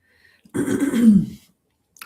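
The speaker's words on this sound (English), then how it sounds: "Clearing my throat." A single throat clearing, a low rough rasp lasting about a second, close and fairly loud, with no talking.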